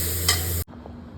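Tadka tempering sizzles in a hot pan as it is stirred: a brief, bright hiss that cuts off abruptly into quiet kitchen background.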